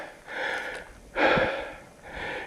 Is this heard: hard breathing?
yes